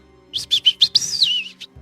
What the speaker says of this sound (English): acknowledges you with a sweet chirp